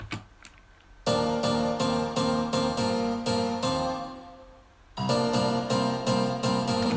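Bright piano chords strike in an even rhythm with sharp attacks and reverb, pause briefly as a swell fades, then resume loudly.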